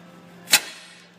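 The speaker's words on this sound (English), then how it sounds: "Now if you did pull a vacuum on yours, it's going to make a noise when you pull this off still." Vacuum releasing from a Ford Five Hundred A/C line as it is pulled off during a compressor replacement: a single sharp, brief hissing burst, close and loud, over a low background hum.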